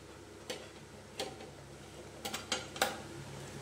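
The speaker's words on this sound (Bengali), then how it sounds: "বন্ধুরা এবার আমি ঢাকনা খুলে দেখবো বন্ধুরা যে এটা কিরকম হয়েছে।" A metal lid comes off a pot of cooking masoor dal with tomato, giving a handful of faint, sharp clinks and taps scattered over a quiet kitchen background.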